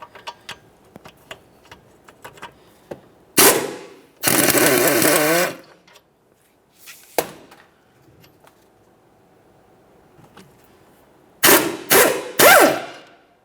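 14mm wheel bearing bolts on a 2015-2019 Subaru Outback are loosened with a swivel socket: sharp ratchet clicks and metallic knocks, a loud burst of rapid ratcheting, then more scattered clicks and clanks up close, without speech.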